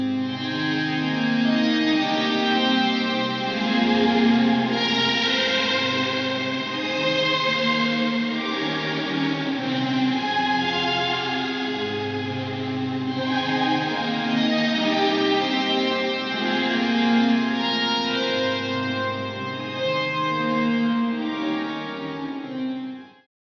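A guitar rings out through a Strymon Cloudburst reverb pedal in Forte mode, bright upper harmonics sparkling and sustaining in a continuous shimmering wash, with no talking.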